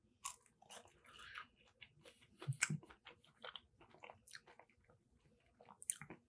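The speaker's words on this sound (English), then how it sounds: "let's get into this fry here" Close, quiet crunching and chewing of a diner-style french fry, with repeated soft bites and mouth sounds spread across several seconds and no talking.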